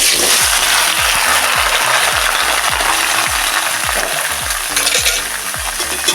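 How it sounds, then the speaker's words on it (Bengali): Vegetables frying in hot oil in a kadai: a loud, continuous sizzle broken by rhythmic, repeated scraping strokes of a spatula stirring against the pan. "কড়ার মধ্যে আমি সবজিগুলো ভেজে নেব। সবজিগুলো সব আমি দিয়ে দেবো কড়ার মধ্যে।"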